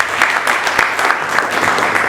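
Brisk applause from an audience at a wedding and events fair in Mbuji-Mayi, a dense continuous patter of clapping with no other sound.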